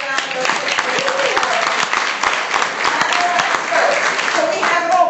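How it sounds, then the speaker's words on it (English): An audience claps for a graduate, a moderate burst of applause with scattered sharp claps and some murmuring voices under it. "Give Lauren a big round of applause."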